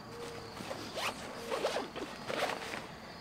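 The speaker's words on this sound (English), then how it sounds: "Grab my zipper." A backpack zipper is pulled in several short, quick zips, close and fairly quiet, with small rustles of fabric between strokes.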